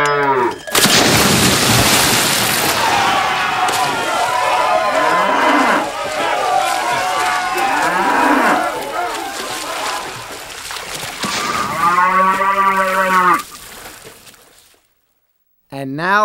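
A cow moos loudly in repeated harmonic bellows, rising and falling over a busy comic backdrop with splashes and crowd-like noise, ending in a final long clear moo before a brief silence.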